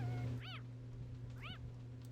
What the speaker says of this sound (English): Kitty cat, meow meow.